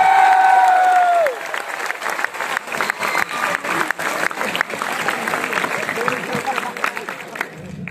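Students applauding in a hall at a Teachers' Day event in Gwalior, a full, sustained burst of many hands clapping with some cheering, after a short opening tone.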